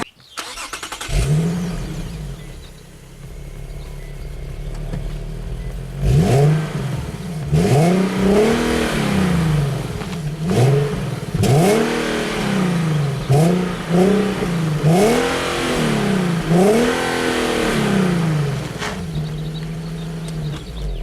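A 2017–2018 Infiniti Q70 luxury car engine hums steadily, then revs repeatedly in rising and falling surges as it accelerates through the gears, loud and close, with no talking.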